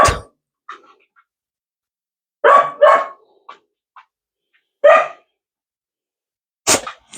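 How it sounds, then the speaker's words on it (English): A dog barks loudly in short, scattered bursts, a few sharp woofs spaced out with silence between, close by. "stop barking at him"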